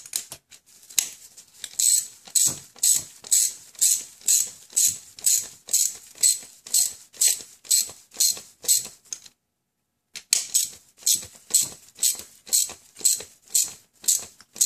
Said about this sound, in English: we can go ahead and use our socket set with a 7/16 drive for me